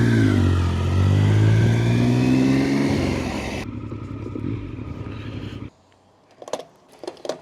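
A Triumph motorcycle being ridden loudly up close, its engine revving and rising in pitch, then dropping to a lower rumble before cutting off into near silence with a few scattered knocks at the end.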